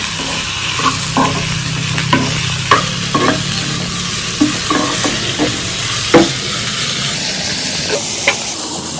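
Chopped tomatoes frying in a pan for butter paneer, a loud continuous sizzle with repeated scraping stirs of a spoon, close up with no voices.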